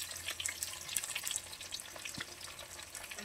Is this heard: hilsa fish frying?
yes